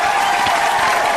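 A crowd in a movie scene applauds and cheers in a dense, steady roar of clapping and voices that fills the short moment without a break.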